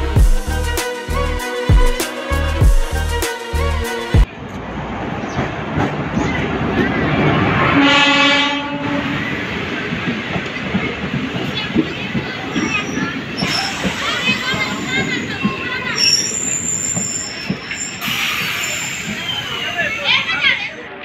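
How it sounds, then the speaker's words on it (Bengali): A DMU passenger train on the New Coochbehar to Dhubri line in Assam pulls into a station, rumbling loudly as its wheels squeal in long high whines and brakes hiss, with a brief horn-like tone and station noise and voices nearby. "ট্রেন কিন্তু চলে এসেছে"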